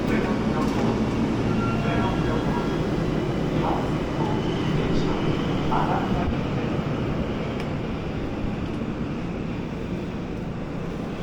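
Train ride in Tokyo heard from inside the carriage: a steady low rumble and rush of rail noise with faint clanks, continuous for the whole stretch, voices murmuring faintly underneath.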